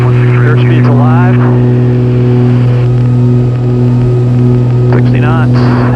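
A small aircraft's engine holds full power during the takeoff roll, a loud steady droning hum with strong tonal bands, while a pilot talks over it in a cockpit intercom.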